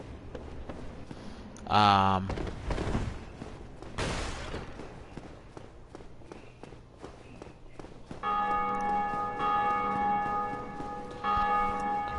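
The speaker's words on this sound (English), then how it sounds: "just rang the bell again." A church bell tolls in the video game Dark Souls Remastered, ringing out in clear repeated strokes with a metallic shimmer, preceded by brief game sounds and footsteps, loud and close.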